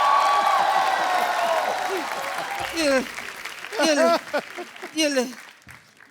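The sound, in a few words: applause from the studio audience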